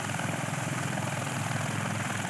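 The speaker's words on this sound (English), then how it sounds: "Look at these choppers, man." Military helicopters circle near the U.S. border wall during its construction, a steady, dense rotor and engine roar with a low thumping pulse that fills the whole moment without any voices.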